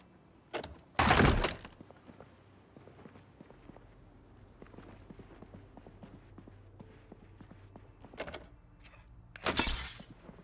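In the Project Zomboid video game, an old CRT tube gets smashed: two sharp, loud bursts of breaking glass, one early and one near the end, with faint scattered clicks and footsteps between them.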